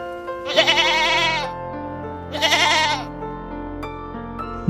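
A goat bleats loudly and close by, giving two long wavering calls with a short pause between them.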